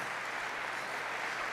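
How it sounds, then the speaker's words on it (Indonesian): A church congregation gives a brief burst of dense, even applause that fills the room with no voices over it. "Berikan tepuk tangan yang meriah"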